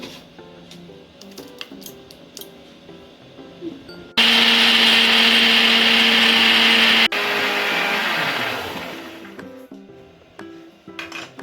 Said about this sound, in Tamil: இப்போ மிக்சியில் அரைச்சி எடுத்துகிட்டு வந்துடுவோம்.